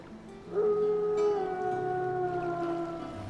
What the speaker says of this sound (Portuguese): Uiva, cãozinho uiva.